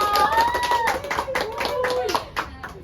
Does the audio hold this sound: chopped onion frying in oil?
no